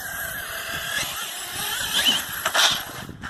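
An MT8E RC car on 6S power tearing around a park, its electric motor giving a steady high whine that surges and climbs in pitch as it accelerates, with no voices over it.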